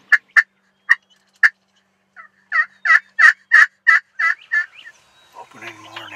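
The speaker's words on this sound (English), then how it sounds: "Plenty of birds gobbling." Wild turkeys gobble on an opening-morning hunt in southern Iowa, a rapid series of loud, rattling gobbles sounding close and alone, followed by quieter rustling.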